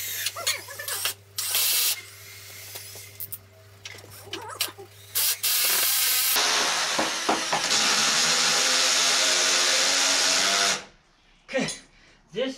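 A power drill drives screws into goat-shelter framing in several short bursts and one long sustained run, with brief pauses between, close by and loud; the drill struggles to sink screws fully; a voice speaks briefly.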